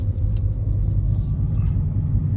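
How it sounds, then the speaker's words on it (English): A car that earlier misfired on this same grade now pulls strongly uphill, giving a steady, deep engine rumble with road and cabin drone, continuous and close, with no voices. "the car is running really strong"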